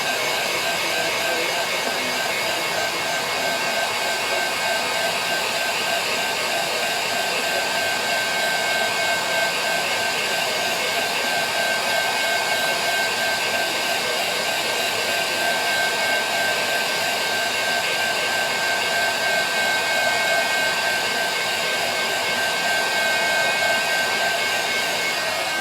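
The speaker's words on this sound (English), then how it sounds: "with my heat gun" A heat gun blows continuously at close range, a steady loud rushing hiss with a faint high whine that holds unchanged throughout, no voices over it.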